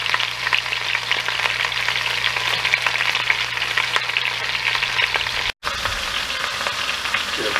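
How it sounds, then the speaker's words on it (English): Oxtails browning in a pot for Jamaican-style stewed oxtails, giving a loud, constant close sizzle and crackle of hot fat that runs unbroken, apart from one very brief dropout. "This just adds extra flavor, so brown your meats."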